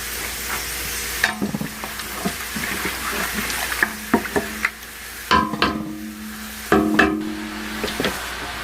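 Water poured into a pan of light-brown fried onion with ginger-garlic paste and garam masala, setting off a burst of sizzling and bubbling, with stirring clatter and scraping at close range.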